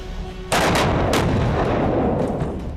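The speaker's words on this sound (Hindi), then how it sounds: "artillery firing" Heavy artillery fire, 155 mm guns in a cross-border exchange, booms out as a sudden loud blast followed by sustained rumbling reports and a second sharp burst, continuing without speech.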